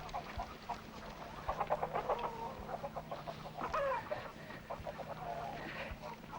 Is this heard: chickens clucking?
yes